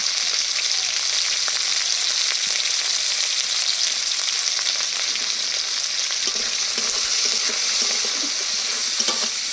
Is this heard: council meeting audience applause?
no